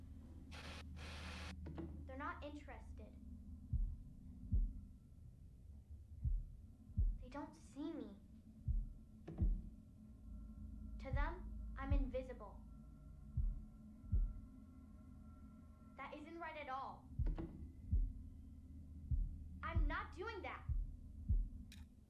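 Heartbeat effect from the horror video game The Dark Pictures: Little Hope, a steady low thumping pulse repeating throughout, with speech-like game audio and faint background hum over it.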